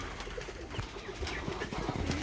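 A roller pigeon from a competition kit coos close by in soft, repeated throaty calls, quiet but clear against faint background noise.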